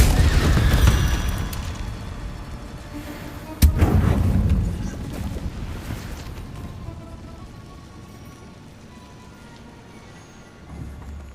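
Incendio fire spells cast in Hogwarts Legacy give heavy booming whooshes, with a sharp burst near the start and another a few seconds later, each fading into a low rumbling tail.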